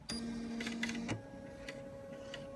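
Bernina 630 embroidery machine checking its hoop size: a brief motorized whir with a few clicks and ticks, then a quieter steady electronic hum, all close by and without voices.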